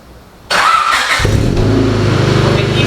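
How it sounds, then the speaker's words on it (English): A car engine cranks and fires up after a quiet moment, then settles into a loud, steady idle with a rumbling, sealed-up exhaust note. "let us get a first start on this car right here"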